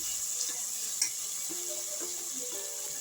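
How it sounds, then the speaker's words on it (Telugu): Coriander and curry leaves frying in hot oil in a pan, a steady bright sizzle throughout with a few soft clicks and stirring sounds, close and without talking. "కొంచెం కొత్తిమీర, కరివేపాకు. ఇది 1 సెకండ్ ఫ్రై చేసుకొని"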